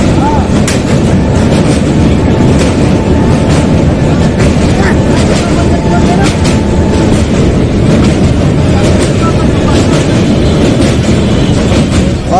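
The Poorva Express superfast train pulls into Lakhisarai Junction with a loud, continuous rumbling roar and scattered rattling and crackling clanks, steady and close for the whole stretch.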